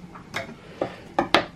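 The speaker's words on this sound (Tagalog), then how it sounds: "Hiwain mo naman itong sibuyas." A knife chops an onion on a board in a home kitchen while sisig is being prepared, giving four or five sharp, separate taps at an uneven pace, close and clear.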